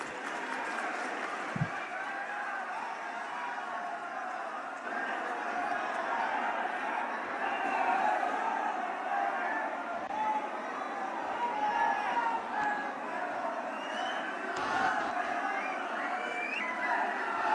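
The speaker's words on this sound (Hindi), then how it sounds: "दोनों हाथ खोल के जोर से तालियों के गड़गड़ाहट के बीच स्वागत है" A crowd at an Aam Aadmi Party rally applauds to welcome Delhi Chief Minister Arvind Kejriwal, with sustained clapping and crowd noise that swells and continues, following a single sharp knock near the start.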